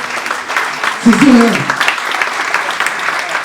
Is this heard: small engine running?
no